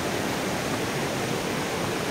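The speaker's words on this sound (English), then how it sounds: "Look at the water coming down." Water tumbles over slippery rocks in the Dan nature reserve, a steady, close rushing roar with no breaks, heard on its own.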